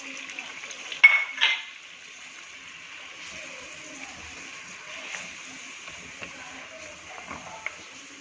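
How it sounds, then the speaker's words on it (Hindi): Tomatoes and spices frying in a karahi give a faint, steady sizzle, with a couple of sharp utensil clinks early on and light stirring scrapes throughout. "टमाटर डाल दिए हमने और इसको भूनेंगे थोड़ा सा, साथ ही ये सारे स्पाइसेस।"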